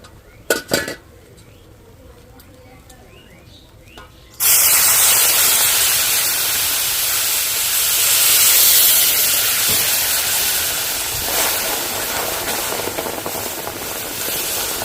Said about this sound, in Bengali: এবার আমি জাল করে রাখা দুধটা দিয়ে দিচ্ছি